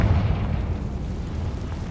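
A Confringo fire spell explosion in the video game Hogwarts Legacy, a loud rumbling blast that booms at the start and then rolls on as a sustained low roar, with no speech.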